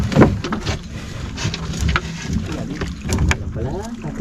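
A small fishing boat's engine runs steadily on the water, a low continuous drone with wind noise, while voices talk nearby over it.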